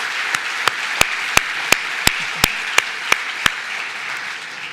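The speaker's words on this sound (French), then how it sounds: "Donc vous pouvez l'applaudir." Applause from the audience at a business convention in Monaco, a steady bed of clapping punctuated by about ten sharp, evenly spaced rhythmic claps close by.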